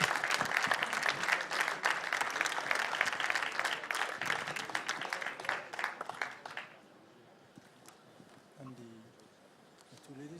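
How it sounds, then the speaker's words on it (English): Audience applause after the FIFA Interactive World Cup 2013 final champion is announced: dense, loud clapping for about seven seconds, then fading to quiet room noise with a brief voice near the end. "Round of applause, please."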